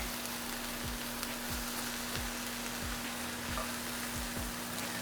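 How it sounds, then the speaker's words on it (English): Mushrooms and onions caramelizing in butter in a pan give a steady, soft sizzle with a constant hum beneath it, and faint stirring or scraping comes through at regular intervals. "Something about just like caramelizing mushrooms, onions, olive oil."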